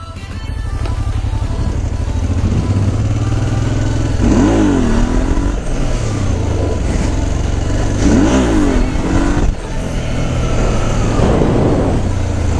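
A motorcycle engine revs loudly nearby, rising and falling in repeated throttle blips over a steady idling rumble, with a brief dip before climbing again.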